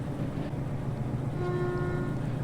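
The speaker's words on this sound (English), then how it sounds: "Annoyed honk number 2" DE2 locomotive horn in Derail Valley sounds a steady, sustained honk in the second half, loud over a constant low engine rumble with no talking.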